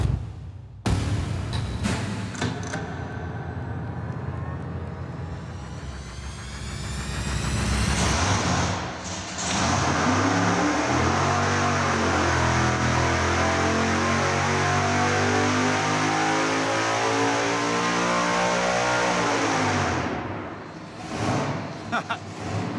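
Supercharged big-block Chevy V8 running on a dyno, firing up and then holding a loud, steady roar with rising harmonic sweeps as it pulls through the revs, dropping off near the end, with people talking under it.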